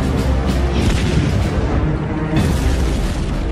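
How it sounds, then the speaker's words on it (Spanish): Heavy World War II-era artillery fire during the Battle of Lorraine, France, rumbles in a loud, continuous barrage, deep blasts overlapping one another with a constant low roar between them. "Nos tanteaban con disparos de artillería."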